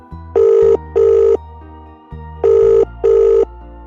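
A telephone bell rings in two double bursts, loud and close, with a low electronic tone underneath.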